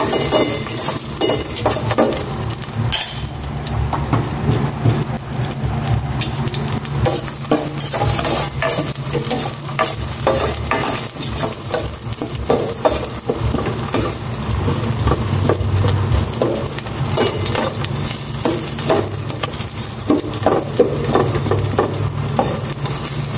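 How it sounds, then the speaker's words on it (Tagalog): Garlic sizzling in hot cooking oil in a pan, a steady dense frying hiss with scattered scraping and stirring clicks, close and continuous throughout. "Gisa ko na itong bawang."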